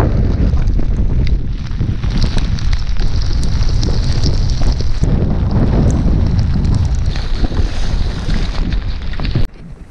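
Strong gusting wind from a storm buffets the microphone in a continuous loud rush while perch fishing from a boat, with water and boat noise beneath it, no talking.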